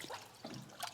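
Water trickles and splashes unevenly as it is poured into the cooling system of an abandoned Mitsubishi Lancer Evo 8 under restoration, a faint close-up gurgle with no talking.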